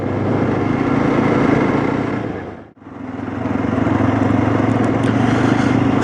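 Jawa 42 motorcycle on a highway, a steady close engine and wind roar that briefly dips into near silence at the midpoint, then returns at full level.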